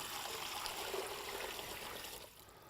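Water being poured into a slow cooker pot set to sear, a steady close splashing trickle that tapers off near the end.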